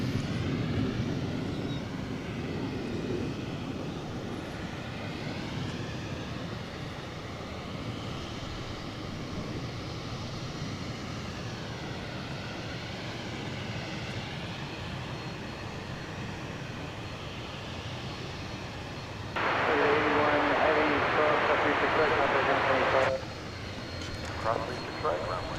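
Two MD-11 jets at Dallas/Fort Worth International Airport, a steady broad engine roar that swells into a louder, brighter stretch near the end, with a voice talking over it throughout.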